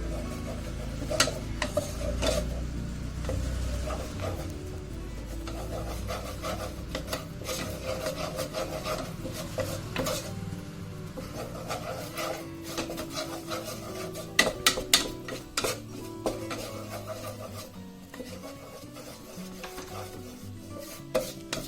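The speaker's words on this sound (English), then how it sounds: "Stir it well. Keep the flame low." Atta flour is stirred in a pan over a low flame for a homemade lasagna sauce, giving a continuous close scraping and rubbing with scattered knocks against the pan, and no talk.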